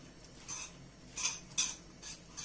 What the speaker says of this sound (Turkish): Karameli şöyle bir karıştırıyorum.